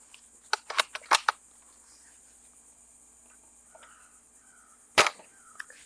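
Sharp cracks of a Novritsch SSG96 airsoft sniper rifle being fired, several quick snaps clustered near the start and one more a few seconds later, crisp and close against a quiet room.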